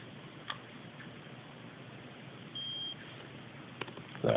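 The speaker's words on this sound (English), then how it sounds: "So that beep there is saying that it has recognized the full throttle position" A single short electronic beep from a speed controller recognizing the full throttle position rings out in a quiet room, with faint ticks before and after.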